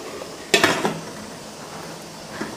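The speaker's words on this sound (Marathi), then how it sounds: "आता मी या भांड्याला झाकण लावते" A lid goes onto a cooking pot used to steam idli, giving a quick burst of metallic clatter and a couple of clinks, then a faint, steady kitchen background.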